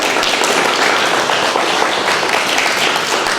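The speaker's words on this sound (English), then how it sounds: "how about a round of applause for Susan?" Loud, dense applause from a seated audience at a manufacturing talk, a continuous wash of many clapping hands filling the whole moment close to the microphone, with no talking.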